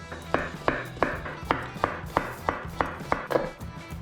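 A knife slices zucchini thinly on a board, about a dozen crisp, evenly spaced cuts in a steady rhythm, close and clear with no talking.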